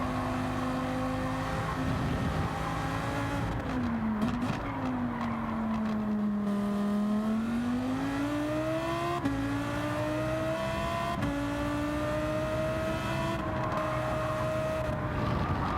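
A Lamborghini Huracan GT3 race car's engine roars steadily at Autopolis in Gran Turismo 7, its pitch climbing and dropping through gear shifts with loud, continuous revving and brief dips between changes.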